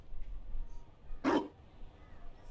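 A single sharp dog bark from the video game Dragon Age: Inquisition, one loud close burst in an otherwise quiet stretch.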